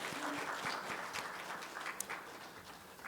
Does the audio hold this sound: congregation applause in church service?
yes